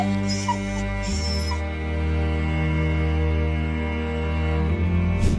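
A starving stray dog shivering in heavy snow by a river whimpers in high, thin cries over a steady low drone, loud and close throughout.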